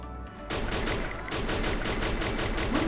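Gunfire rings out in the video game Free Fire, a rapid, sustained burst of sharp shots starting after a brief quiet moment and continuing to the end.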